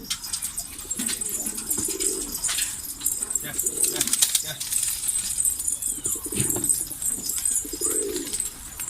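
Pigeons cooing outdoors in repeated low, soft phrases spaced a second or two apart, with a steady hiss of background noise throughout.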